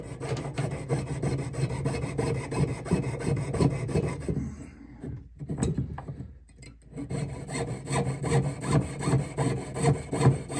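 A jeweler's saw cuts straight through a metal ring to resize it, giving a steady, close rhythmic rasp of back-and-forth strokes that briefly pauses midway before the sawing resumes.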